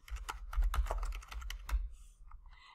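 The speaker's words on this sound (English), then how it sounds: "Now I'm going to add some text. I'm going to type in virtual help desk" A computer keyboard clatters as text is typed, a quick run of close, crisp keystrokes that slows to a few taps at the end.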